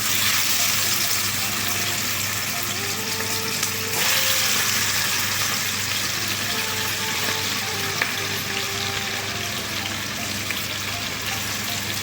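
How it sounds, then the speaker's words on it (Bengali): Pieces of squid fry in hot oil, sizzling loudly and close by with a constant bubbling hiss that runs the whole time, with no voices over it. "তো তেলটা হিট হয়ে গেছে, আমি এখন মাছগুলা ফ্রাই করে নেব।"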